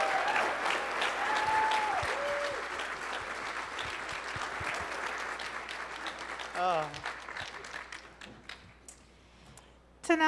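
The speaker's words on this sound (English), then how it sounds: "Everybody, one more time, a big round of applause." An audience at an Emmy Gold & Silver Circle honors awards ceremony claps warmly in a sustained round that thins out toward the end, with a few faint voices and whoops mixed in.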